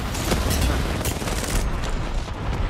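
Grenade explosions and gunfire in the video game Apex Legends, a dense barrage of sharp blasts and booming impacts piling over one another, loud and continuous.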